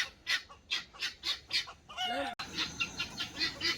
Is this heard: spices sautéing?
no